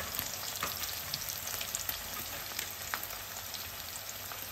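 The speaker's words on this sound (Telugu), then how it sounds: "ఇప్పుడు ఉల్లిగడ్డలు చక్కగా వేగిపోతున్నాయి" Onions fry steadily in a hot pan, a continuous close sizzle with faint crackles and no talking, while dried prawns and gongura are being cooked.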